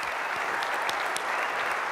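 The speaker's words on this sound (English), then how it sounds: "let's give our winners one more round of applause" An audience at the SolidWorks World 2013 Model Mania competition applauding the winners, a thick continuous round of clapping with occasional sharper claps standing out, steady and moderately loud with no talk.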